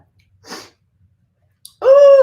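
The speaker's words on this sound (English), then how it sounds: "Ooh, about to sneeze." A soft breathy rush, then a brief pause and a sharp intake leading into a loud, close, voiced sneeze burst.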